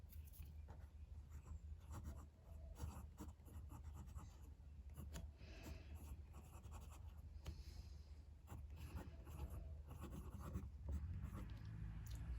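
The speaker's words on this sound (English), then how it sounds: "Let's do a writing sample now with the Platypus Pens Model 10." A Platypus Pens Model 10 fountain pen with a steel medium nib scratches steadily across paper in short strokes and pauses, faint and close, with no talking.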